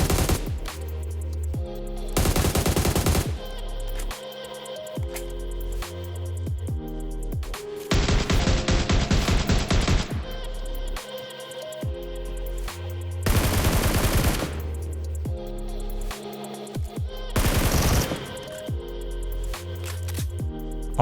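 Bursts of automatic gunfire from the PUBG Mobile shooter game, several loud rapid volleys spaced a few seconds apart over a steady music bed, with no talking.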